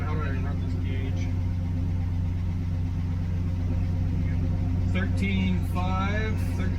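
Chevrolet Stepside truck running on old fuel, a steady low engine drone close by, with people talking briefly over it.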